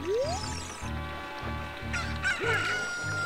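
A chicken in the Zelda: Ocarina of Time video game, honking, squawking fowl calls repeated in short bursts over a looping pulsing background tune, with no talking.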